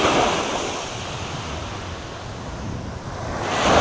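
Sea waves wash onto a beach with a steady roaring surf and wind buffeting the microphone, swelling louder at the start and end.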